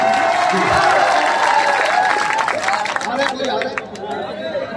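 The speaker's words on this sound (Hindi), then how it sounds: "उठ के ताली बजाते बजाएं" Audience applause at a mushaira poetry recital, clapping mixed with crowd chatter and a voice speaking over it, thinning out toward the end.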